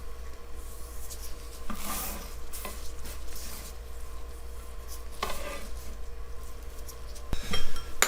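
Chopped garlic being stirred into a boneless turkey roast mixture in a bowl, giving steady close scraping and mixing sounds with a few sharper clinks and knocks, no talking.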